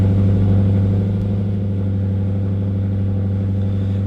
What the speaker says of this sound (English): go ahead and start the car and keep an eye on your oil pressure